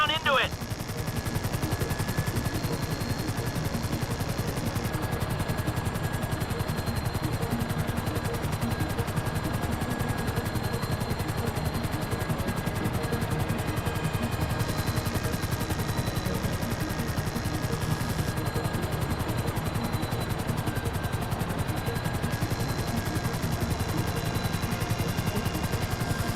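Continuous gunfire and helicopter rotor noise in the GTA V video game, a dense, loud, unbroken wash of shots and engine roar that runs steadily throughout, with no pauses.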